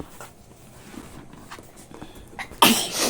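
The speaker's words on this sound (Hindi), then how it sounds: "छींक आ गया ना" A woman sneezes once, loud and close, near the end after quiet room rustling and soft handling of a parcel.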